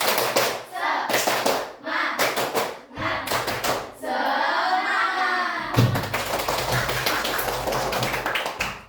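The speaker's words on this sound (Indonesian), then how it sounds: "Coba tepuk semangat." A group claps in a quick rhythmic pattern, sharp bursts of hand claps repeated in sets, with a brief lull in the middle before clapping resumes.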